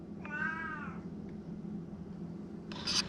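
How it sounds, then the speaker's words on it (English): A female cat lets out one clear, drawn-out meow near the mic, followed by a short sharp noise near the end over a low room hum. "She's an attention kitty."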